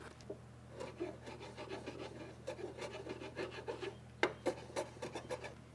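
Walnut splines on a pecan and walnut wooden box being cleaned up with a rasp or file: steady rhythmic scraping strokes, close and fairly quiet, ending in a few sharper, louder passes.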